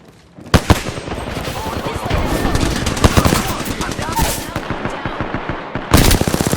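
Close, loud bursts of rapid automatic gunfire ring out in a first-person shooter video game, with dense repeated shots and a final sharp volley at the end.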